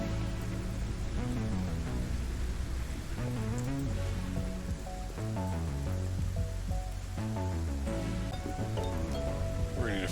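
Continuous rainfall effect in the game Satisfactory, an even broadband patter running throughout under prominent tonal game music, with no clear individual drops.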